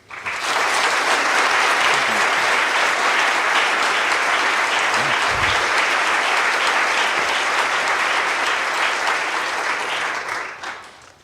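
An audience applauds as two guests are welcomed onstage for a conversation, sustained dense clapping that holds steady for about ten seconds before tapering off at the end.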